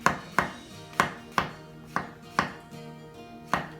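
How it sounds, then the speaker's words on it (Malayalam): Knife slicing mushroom, capsicum and onion on a cutting board for a homemade pizza: about eight crisp, separate chops at an irregular, unhurried pace, close up and clear, with no speech. "അപ്പോൾ നമുക്കിങ്ങനെ സ്ലൈസ് ചെയ്യാം."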